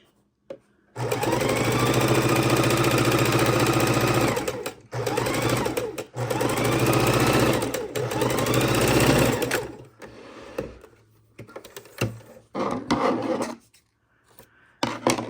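A sewing machine stitches quilt blocks into rows, its fast needle hammering loud and close in long runs. Short bursts and pauses follow near the end.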